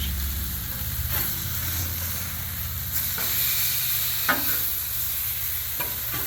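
Steak sizzles loudly and steadily on a Blackstone griddle, a constant close frying hiss punctuated by several sharp scrapes of a spatula across the flat-top.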